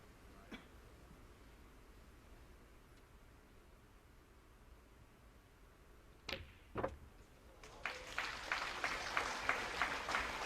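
A snooker crowd in a tournament final bursts into applause after a century break, the clapping rising quickly from quiet room noise near the end and building to a dense, steady ovation, preceded by a few isolated knocks.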